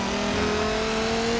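A Dodge Viper's 8-liter V10 engine revving in Forza Motorsport 7 at Sonoma Raceway, a loud sustained mid-pitched engine drone with a steady tone and no talking.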